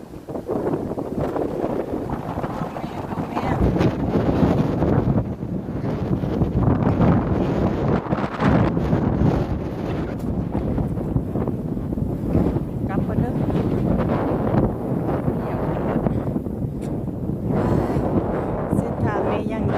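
Strong wind buffets the microphone while someone rides a bicycle for exercise abroad, a loud, continuous roaring rush with swelling gusts throughout and a voice faintly audible under it at times.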